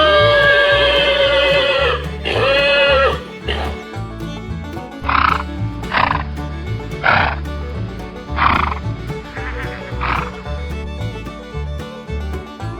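Horses neighing in a run of loud whinnies, two long quavering calls followed by a series of shorter neighs spaced a second or two apart, set against a steady rhythmic backing of music.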